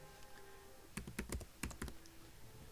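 Quick bursts of typing on a computer keyboard while entering text into a Microsoft Word table, clusters of crisp key clicks in short runs, close and fairly quiet.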